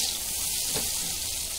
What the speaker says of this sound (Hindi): अभी ये प्याज डालेंगे